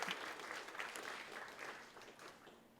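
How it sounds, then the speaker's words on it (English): A crowd applauds at a college horticulture complex ribbon cutting, steady scattered clapping that starts strong and gradually tapers off. "So please join me in a round of applause for them."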